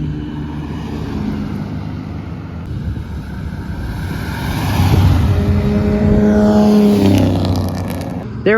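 A McLaren Speedtail hypercar drives by at Monterey Car Week, its engine rumble swelling from a steady roar to a louder close pass before fading, with wind buffeting the microphone throughout.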